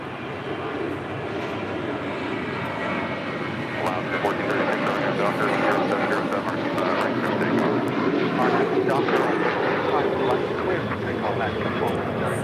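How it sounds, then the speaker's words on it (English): At LAX, a Boeing 787 Dreamliner taxis toward a left turn onto taxiway Lima. Its engines make a continuous, fairly loud broadband rumble and whine, rising gently midway, with a voice talking over it. "Air Premier, the Dreamliner, about to make that left-hand turn onto Lima."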